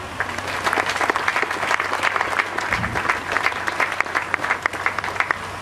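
Congregation applauds an elder rising before a church community gathering, sustained clapping from many people with distinct individual claps standing out over a low background hum throughout.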